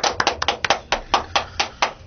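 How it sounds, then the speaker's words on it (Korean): One or two people clap by hand in a small room during a Korean radio talk show, producing about ten crisp, close, evenly spaced claps with no speech. "박수 한번 치고 가시죠."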